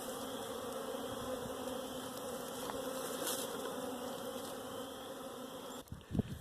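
A steady swarm of honeybees hums loudly and continuously as a hive frame is lifted out during a spring inspection, ending with a few brief knocks and handling noises.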